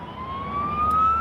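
A fire engine siren in Queenstown, a steady rising wail heard at moderate distance and growing slightly louder over a low traffic rumble, with no talk.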